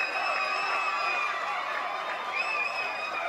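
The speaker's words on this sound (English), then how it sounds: "Told you it would be a big cheer." Crowd cheering and applauding at the GT3 Cup podium ceremony of the Michelin 12H Mugello 2025 endurance race, a steady wash of voices and clapping held at an even level throughout.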